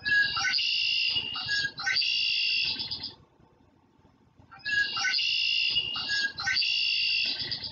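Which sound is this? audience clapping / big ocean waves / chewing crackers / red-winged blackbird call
red-winged blackbird call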